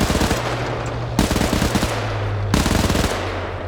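An MG42 machine gun fires in a WW2 video game, rattling out three long rapid bursts that follow one another closely, loud and near.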